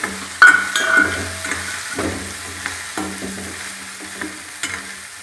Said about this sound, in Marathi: सांडगे आपले छान परतून घ्यायचे आहे